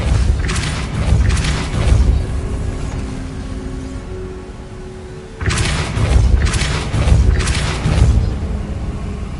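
Depulso spell being cast in Hogwarts Legacy, two clusters of heavy booming thuds separated by a quieter stretch of low rumbling game ambience.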